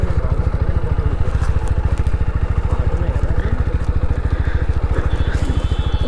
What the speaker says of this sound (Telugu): ఓ వెనకాల టైర్ జారుతుంది.